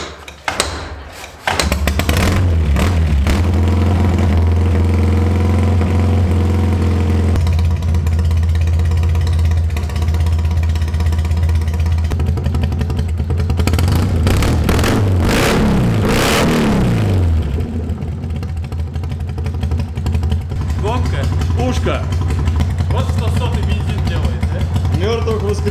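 A turbocharged Ural Wolf motorcycle engine runs loud and close, holding a steady idle before revving up and down in a couple of surges, with voices talking over it.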